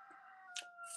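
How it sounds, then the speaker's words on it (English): Roosters crowing at a distance, a faint call early on and brighter bursts near the middle and end over a steady tonal background hum. "I can hear your roosters."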